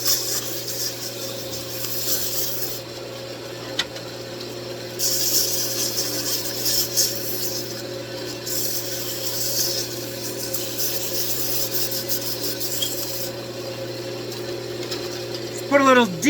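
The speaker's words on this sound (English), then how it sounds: "Okay, let's do a quick sanding." Walnut is sanded with 320 grit paper on a spinning wood lathe, giving a steady hiss in long sweeping passes over the motor's low hum, with brief pauses between strokes.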